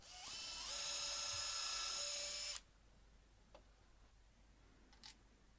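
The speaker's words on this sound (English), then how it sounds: "I'm drilling down through the pilot hole into the legs as well" A power drill whines steadily for about two and a half seconds as it bores down through a pilot hole into wooden bench legs, then stops, followed by a couple of faint clicks.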